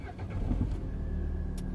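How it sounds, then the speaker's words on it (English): A Peugeot 307 car engine starts after an immobilizer and faulty key fault, catching with a brief crank and then settling into a steady idle, heard close with no talk. "Engine started. So engine is started."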